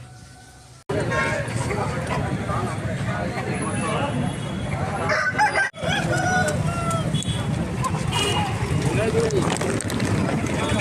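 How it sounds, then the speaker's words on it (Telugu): Several roosters crow and hens cluck in a busy, noisy crowd at a market selling fighting cocks, with people talking throughout over a dense background din. "చూడండి ఇక్కడ పుంజులు అనేది ఎక్కువగా ఉన్నాయండి"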